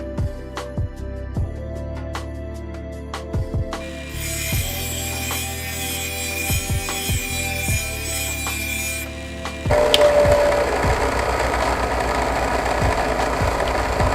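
Lawn mower blade being sharpened on a grinder, a steady loud abrasive whine that runs continuously, with a harsher, brighter grind taking over partway through; no one speaks.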